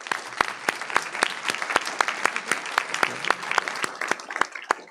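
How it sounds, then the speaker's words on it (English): Applause from an audience at a workshop panel session, a steady round of clapping with sharp individual claps close by, continuing throughout. "Big round of applause to our panelists."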